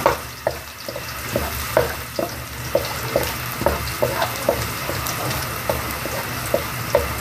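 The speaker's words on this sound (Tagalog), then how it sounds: "Pag medyo luto na yung luya, ilalagay, susunod po sa luya, susunod po natin ay bawang" Ginger and garlic fry in a pan with a continuous close sizzle, broken by regular clinks of a utensil stirring against the pan.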